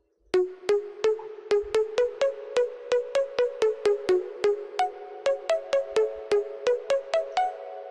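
Progressive house chords layered with a melody, programmed in FL Studio: evenly spaced plucky synth notes in a steady rhythm over sustained chord tones, loud and alone with no voice.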